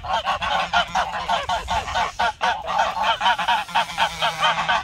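Çorum geese, a local domestic breed, honk in a dense, overlapping flock chorus, loud and close, with rapid repeated calls filling the whole stretch without pause.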